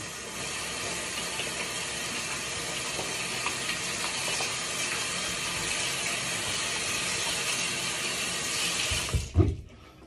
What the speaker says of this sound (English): you can rinse it off now with water.